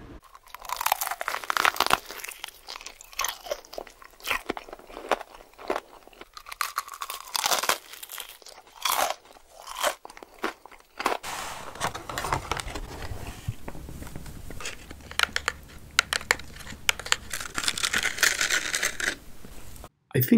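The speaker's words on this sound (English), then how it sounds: "A lot of mukbangers like to capture and emphasize their eating sounds or when they are opening a package of food." Mukbang-style ASMR eating: crisp crunching bites and crinkling, tearing packaging as food is opened, close-miked and detailed, with irregular bursts of rustle and chewing throughout and no talking.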